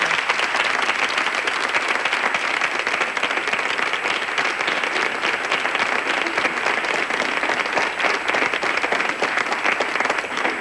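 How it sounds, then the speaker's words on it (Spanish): A television studio audience on a 1997 Spanish show applauds a comedy group, producing dense, loud, continuous clapping that holds at an even level from start to finish. "Un aplauso para ellos."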